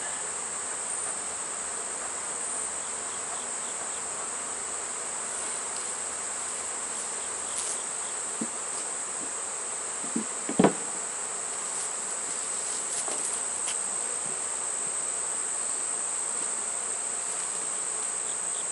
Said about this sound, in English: we'll get the rest of these bees out of here